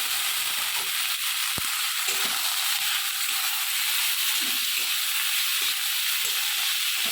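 Bottle gourd peels fry in a pan with a little turmeric, making a loud, steady, close sizzle that runs the whole time, with occasional soft stirring knocks and no talking.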